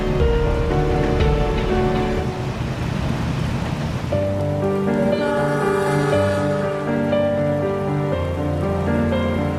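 Steady rain falls during a train journey on the KA-86 Malabar, travelling between Cipendei and Cirahayu stations, a dense continuous wash of patter with a low rumble and some tonal hum underneath, close and even throughout.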